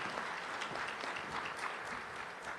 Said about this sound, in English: Can we have a good round of applause for the panelists?